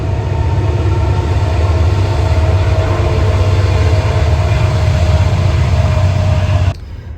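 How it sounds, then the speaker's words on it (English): A train passing near an excavator work site makes a loud, steady rumble and rolling roar with a constant tonal hum that continues throughout, then drops off abruptly at the very end. "Got a train coming."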